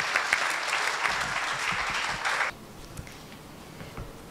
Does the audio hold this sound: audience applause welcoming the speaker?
yes